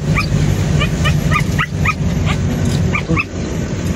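A dog barks and yips in short repeated bursts over a steady vehicle rumble, as if heard from a moving jeep on a road in the Philippines.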